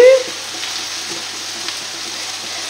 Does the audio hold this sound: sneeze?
no